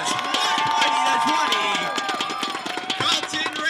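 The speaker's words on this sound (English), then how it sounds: "Carleton Ravens doing the sort of victory cheer." Carleton Ravens players cheer together after a goal in the Canadian Cup final against McGill, a burst of close, overlapping shouting voices with scattered claps and footsteps.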